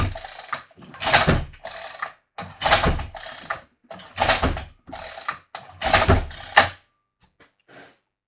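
A Stihl FS40C string trimmer with an easy-start recoil starter is pulled over repeatedly during a compression test, giving five or six rhythmic ratcheting pulls close by, each a second or so long, with quiet gaps between them.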